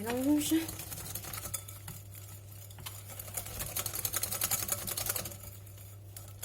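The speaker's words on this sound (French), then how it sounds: "on touille, on va éviter de faire des grumeaux. Je mélange." Cake batter with flour and diced peppers being stirred in a bowl: a busy, rapid scraping and tapping of the utensil, moderately close, with a short voice at the start.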